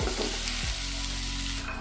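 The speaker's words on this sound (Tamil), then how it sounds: "நல்லா ஃப்ரை ஆகட்டும்." Onions frying in oil with asafoetida and dried red chillies for a drumstick flower poriyal, a close, steady crackling sizzle with a brief stir.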